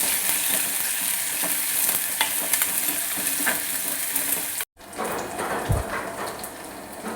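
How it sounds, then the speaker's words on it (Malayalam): Crushed shallots and curry leaves hiss in hot oil with popped mustard and fenugreek seeds for a Kerala tilapia fish curry: a steady bright sizzle, then a brief cut and a softer crackle with light clinks. "കടു ഉലുവയൊക്കെ പൊട്ടിയിട്ടുണ്ട് അതിലോട്ട് ചതച്ച ചെറിയ ഉള്ളി കറിവേപ്പില ഇട്ട് കൊടുക്കാം"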